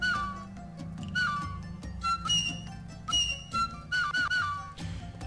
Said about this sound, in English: I've got one of the new sound sets equipped. That's what the whistles are.